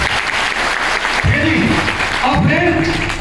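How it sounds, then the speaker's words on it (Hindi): Seminar audience in Fatehpur clapping together, a loud, dense burst of applause that holds steady throughout, with a voice talking over it partway through. "ताली बजा लीजिए"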